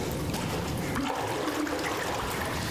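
A swimmer in an indoor pool, doing the butterfly stroke, churns the water into continuous sloshing and splashing that stays close and moderately loud, with no talk over it.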